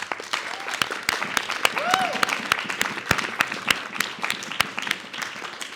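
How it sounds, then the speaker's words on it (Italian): Audience applause at an evening screening and debate event in an indoor venue, dense continuous clapping from a sizable crowd lasting several seconds, with scattered voices and a whistle faintly mixed in. "al quale farei un bellissimo applauso"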